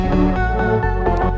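A Melbourne bounce drop with filtered drop leads: a bouncy electronic lead riding over thumping, pulsing bass in a quick rhythmic pattern, dense and loud with no voices.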